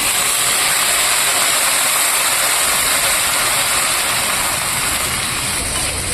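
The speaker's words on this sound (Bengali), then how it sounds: "আমি এখানে ফোড়ন দিয়েছি আর ওদিকে ও হাত পা গুটিয়ে বসে পড়েছে ফোড়নের আওয়াজে ভয়তে" Whole spices crackle and sizzle in hot oil in a kadai while khichuri is cooked, a loud dense steady hiss lasting throughout with no talking.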